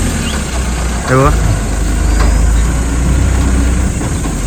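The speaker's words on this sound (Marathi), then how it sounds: "बोरिंगची गाडी आलेली" A borewell drilling truck arrives with its engine running, a steady low rumble throughout, and a person speaks briefly over it.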